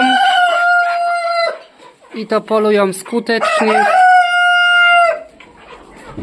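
A farmyard flock with a rooster crowing loudly several times in long drawn-out calls, hens clucking in between, and someone talking briefly over them.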